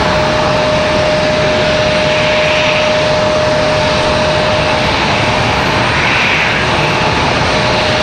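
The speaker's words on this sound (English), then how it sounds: "That E-175 getting off the runway early" An Embraer E-175 jet airliner on the runway at Raleigh-Durham International Airport gives a loud, continuous broadband engine roar that holds steady, close and dominant, for the whole stretch.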